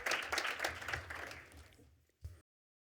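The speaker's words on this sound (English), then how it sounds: "So round of applause to our panelists" Audience at a fintech summit applauding panelists, a short burst of clapping from a modest crowd that fades out after about two seconds, ending in one last loud clap.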